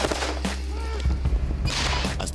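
A sniper rifle shot rings out in a dramatized reconstruction, a sharp loud crack with echoing booms amid a tense, busy soundtrack lasting a couple of seconds.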